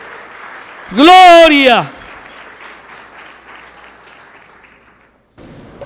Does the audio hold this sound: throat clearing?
no